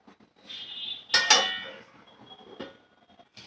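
A metal plate is set down over a pot of homemade egg biryani as a lid, giving a sharp metallic clatter followed by a lighter clink, close and alone.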